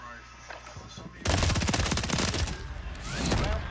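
Rapid bursts of automatic gunfire from a Call of Duty match break out suddenly and keep up densely to the end, loud and close, with game action and faint voices mixed in.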